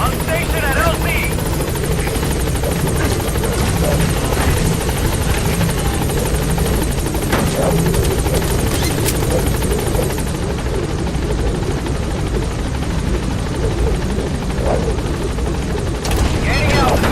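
Rotor thump and turbine roar of the B-Quad helicopter arriving at a landing zone in Metal Gear Solid V, loud and continuous throughout with scattered gunfire-like bursts and radio voices over it.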